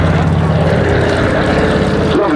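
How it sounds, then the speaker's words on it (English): A Consolidated Catalina flying boat at RAF Cosford drones loudly on its two Pratt & Whitney R1830 Twin Wasp radial engines, 14 cylinders each in two rows, a continuous close roar with wind buffeting the microphone. "Lovely gentle sound of two Pratt & Whitney R1830 twin wasps, 14 cylinders each, radial engines"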